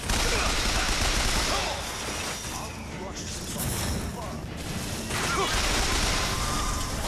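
Gunfire fills a Bioshock Infinite firefight as a dense, continuous clatter of shots and impacts, with people talking over the game action.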